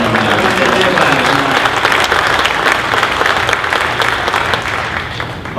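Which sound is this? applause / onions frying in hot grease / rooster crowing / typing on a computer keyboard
applause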